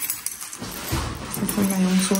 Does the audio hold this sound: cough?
no